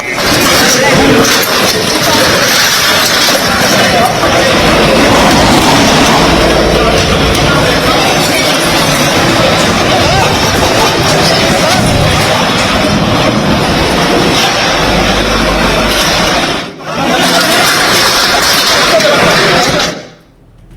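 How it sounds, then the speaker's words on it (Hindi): A bulldozer works on a palace gate in Bareilly, a loud continuous heavy-engine roar with grinding clatter that runs almost without break, dipping briefly once before cutting off near the end. "ये नफीस के पैलेस का गेट है, जिस पर आज बुलडोजर चला"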